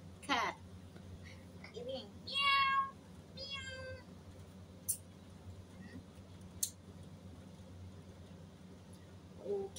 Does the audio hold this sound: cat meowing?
yes